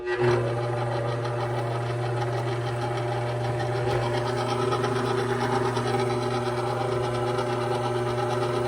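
A stand mixer works whole wheat bread dough with a steady, even mechanical hum and a faint rhythmic knock that runs the whole time, close and fairly loud, with no speech.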